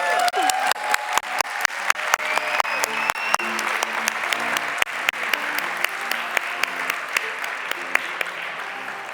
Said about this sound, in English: a big applause to all the community